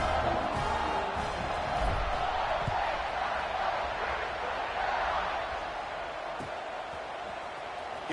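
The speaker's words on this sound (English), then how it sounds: "this crowd is buzzing after that last score" A stadium crowd buzzes at an XFL football game, a steady, dense roar of many distant voices with faint thuds, while a commentator talks over it.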